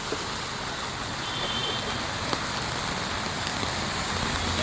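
Heavy rain pours steadily, a dense continuous hiss of drops hitting surfaces with no talking.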